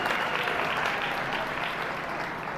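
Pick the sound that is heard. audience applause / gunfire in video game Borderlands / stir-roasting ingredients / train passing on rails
audience applause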